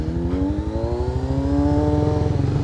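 A motorcycle engine revving close by, a steady, loud, buzzing drone whose pitch climbs slightly and holds without a break.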